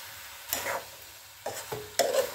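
A spatula stirs a frying masala of potato and cauliflower in a pan for aloo gobhi sabzi, with three distinct scraping strokes over a low, faint sizzle and no talking.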